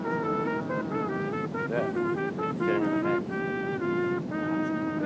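Foghorn sounding near a beach, its steady tonal blasts repeating over continuous surf and wind, fairly loud and close, with a brief spoken word at one point.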